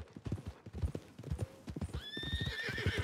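A horse in the Red Dead Redemption 2 video game clops along in a steady, close hoofbeat rhythm, then gives a loud, high whinny that trails over the last second.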